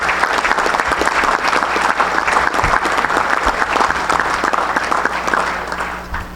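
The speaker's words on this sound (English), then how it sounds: "Please join me in giving a round of applause and honoring a man I respect and love" A crowd at a high school baseball coaches Hall of Fame induction ceremony gives sustained, loud applause for an inductee, with dense clapping throughout that tapers slightly in the last second.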